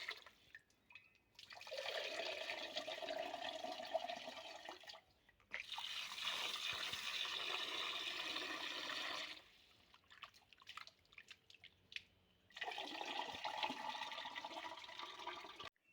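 Chicken pieces are rinsed under a running tap, with three separate gushes of water lasting several seconds each and short quiet gaps between them.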